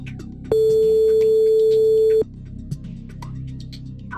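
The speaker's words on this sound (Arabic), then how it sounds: "هو الهاتف يرن." Steady electronic ringback tone on a radio phone-in call, a single continuous loud beep lasting under two seconds, followed by faint room noise with no talk.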